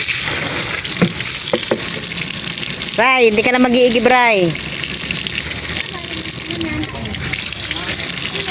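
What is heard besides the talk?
water gushing from newly connected water tank tap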